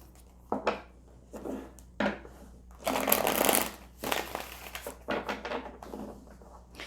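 Tarot cards are shuffled by hand in close, quick riffling bursts that come and go, with brief pauses between shuffles and no talking.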